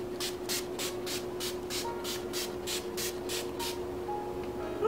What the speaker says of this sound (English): This is the Avon True Color makeup setting spray.